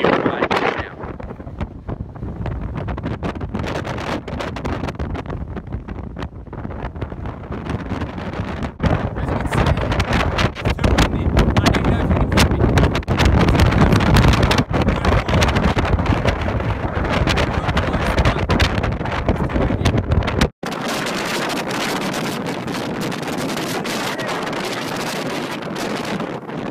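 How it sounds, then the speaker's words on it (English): Strong, gusting wind batters the microphone high on Lion's Head mountain in Cape Town, a loud continuous roar with rumbling buffets, dropping briefly near the end before steady blowing resumes; no talking. "Just too much wind, like ridiculous amounts of wind."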